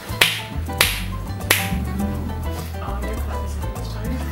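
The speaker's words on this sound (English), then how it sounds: "Do we need to do two claps?" Sharp hand claps used for sound sync on a film set, three quick loud claps about half a second apart, followed by a low tonal hum or music bed in the background.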